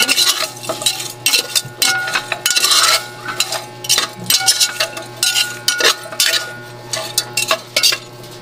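Vegetables, including chayote, being stirred in a cooking pot for a coconut-milk vegetable stew, with a utensil repeatedly scraping and clinking against the metal in busy, close strokes alongside a faint background hum.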